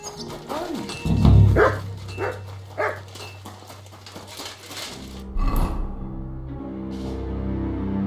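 A dog in Kingdom Come Deliverance II barks a few sharp, close times, the barks spaced out over a low continuous rumble, with hoof-like clopping and a brief voice nearby.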